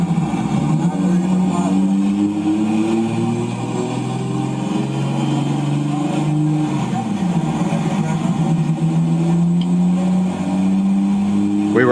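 A boosted car's engine roars on a dyno during a pull of about 802 horsepower, its pitch sweeping up and down through repeated revs, loud and continuous throughout.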